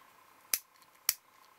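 Scissors cut plastic bag yarn for a kumihimo bracelet, two sharp, close snips about half a second apart in a quiet setting.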